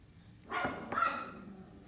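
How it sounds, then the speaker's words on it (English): Two quick, muffled dog barks sound from a short distance, one right after the other, against a quiet background. "That's my baby barking."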